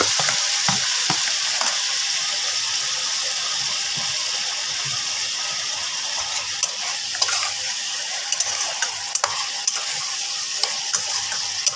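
Mixed vegetables for a thin Bengali rohu fish curry sauté in a pan with cumin, coriander and turmeric, giving a steady close frying hiss broken by occasional scrapes and light clicks of a spatula, with nobody talking.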